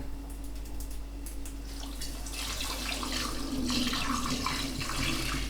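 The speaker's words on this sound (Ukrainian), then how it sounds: "Перецідила, тепер я заливаю фляжку." Strained homemade cherry liqueur made with vodka being poured into a flask, a soft steady trickle of liquid that grows slightly fuller toward the end, quiet and close with no voices.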